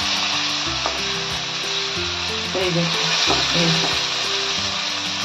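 Tomatoes fry in a pan for rui fish kalia, giving a continuous close sizzle with occasional stirring clinks and a faint tonal hum underneath.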